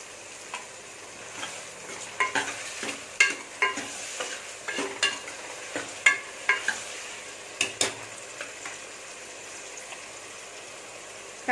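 Tomatoes with a little salt sautéing in a pan for mutton curry, a soft steady sizzle under regular scraping stir strokes from a spoon against the pan, close up and with no talk.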